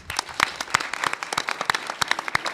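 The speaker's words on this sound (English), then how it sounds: "Yes, clap it up, please." Applause rises from a modest audience at an ACN alumni panel, with distinct individual claps audible in a quick, uneven patter from a smaller crowd nearby.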